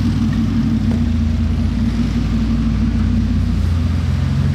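A Bugatti Chiron engine idling on a Paris street, a steady deep low rumble that holds without change and sounds close.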